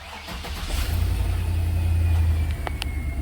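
A 6.0 GM car engine with a knock sensor repair cranks and catches, then settles into a steady low rumble that swells slightly as it runs.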